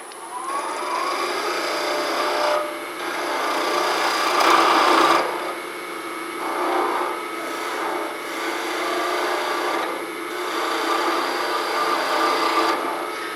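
A slightly dull tool cutting a wooden pen blank spinning on a wood lathe, a continuous scraping, rasping whir that swells and eases as the tool passes, close and steady throughout.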